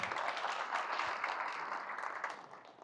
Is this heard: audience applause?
yes